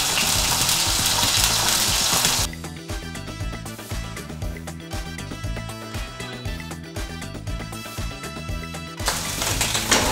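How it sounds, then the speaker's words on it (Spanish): Chicken browning in a frying pan for tacos, steady hissing sizzle, close and fairly loud, briefly dropping to a quieter bubbling fry in the middle before the sizzle surges back, with no voices. "Vamos a agregar nuestro pollo en la sartén y lo vamos a dorar"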